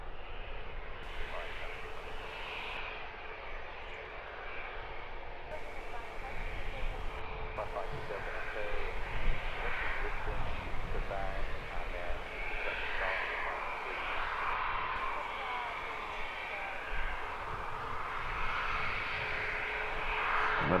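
Jet2 Airbus airliner engines at Luton Airport, a steady broad roar that holds for the whole stretch and swells slightly in the middle, with people talking over it throughout.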